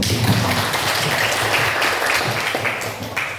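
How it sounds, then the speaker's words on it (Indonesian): A classroom full of people claps steadily for a few seconds, a dense, even patter of applause. "Beri tepuk tangan untuk itu."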